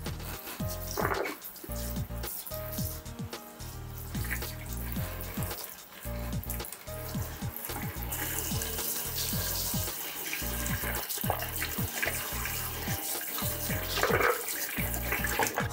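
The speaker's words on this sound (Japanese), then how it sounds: "スポンジ洗いが終わりましたので水ですすいでいきます。" Tap water runs steadily into a kitchen sink to rinse it after scrubbing with a sponge, a continuous close splashing flow with water sounds throughout and no talking.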